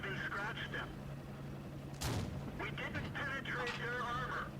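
A tank cannon in World of Tanks fires once at mid-clip, a single sharp boom that swells over steady engine rumble, with someone talking before and after the shot.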